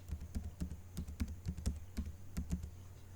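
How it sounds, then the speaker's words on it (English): Quiet, close typing of numbers on a computer keyboard: about a dozen distinct key clicks in an uneven, hurried rhythm over a faint background hum. "Now I'm typing numbers."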